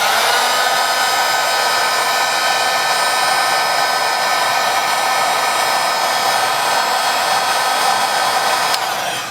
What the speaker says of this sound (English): So let's start with heat gun just a little bit.